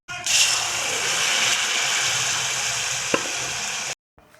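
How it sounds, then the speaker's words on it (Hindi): Melted jaggery and milk poured into hot ghee in a pan for jaggery rice, giving a loud, steady frying sizzle that runs about four seconds, then cuts off abruptly. "घी में सब चीज़ें फ्राई हो गई हैं। अब हम इसमें गुड़ डाल देंगे, इसमें जो हमने दूध के साथ पिघलाया था।"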